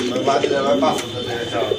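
A pigeon coos close by, soft throaty repeated calls rising and falling, with people talking over it.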